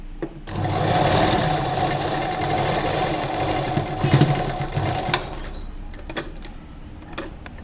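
A sewing machine stitches lehenga fabric in a steady, loud mechanical whir that runs for several seconds, then stops, leaving a few faint clicks and handling sounds.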